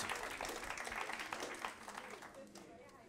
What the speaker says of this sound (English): We should give all of them a round of applause.